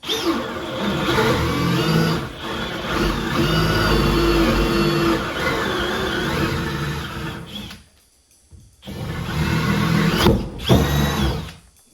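A power drill whines loudly at close range in long sustained bursts while drilling holes in wooden studs, pausing briefly before starting again and then stopping.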